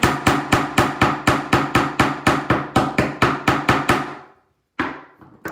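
A hammer strikes silver jewelry wire for an earring component in a fast, even series of about fifteen sharp, ringing blows, close and loud, then stops briefly before one more hit.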